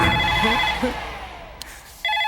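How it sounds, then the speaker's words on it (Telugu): Telephone ringing in a Telugu film scene, electronic ringtone bursts heard close, broken by a pause and then resuming, with brief voices in between. "ఫోన్ ఎత్తరా"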